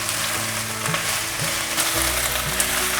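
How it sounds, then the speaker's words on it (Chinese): Seitan and cabbage stir-fried in a wok with black and white pepper and rose salt, a steady loud sizzle with brief scraping tosses of the spatula throughout, no voices. "放入少许的黑白胡椒玫瑰盐，快速的翻炒，把调味料炒匀"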